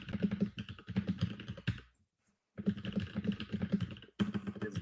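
Rapid, continuous clicking of a computer keyboard being typed on at close range, broken by a short pause before the quick keystrokes resume.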